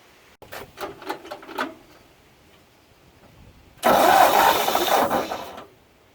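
A 1959 Ford tow truck cranks with a run of short, rhythmic starter bursts. After a pause, a loud, rough engine roar lasts about two seconds, then cuts off, heard close up.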